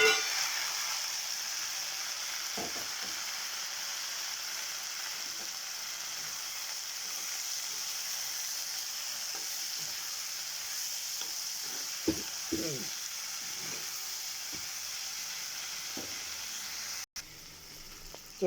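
Tomatoes sizzle and fry in a pan with onions, a steady close hiss running throughout, broken by a few scraping stir strokes near the end.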